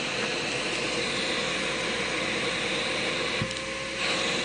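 A shop vacuum runs steadily, giving a loud, continuous broadband whoosh that stays even throughout with no one talking over it.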